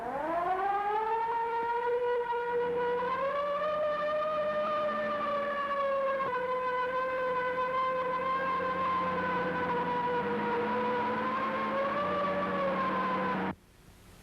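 A loud wailing police car siren, from a 1932 film, rises and holds steady, sustained for over ten seconds, then cuts off abruptly, with no voices.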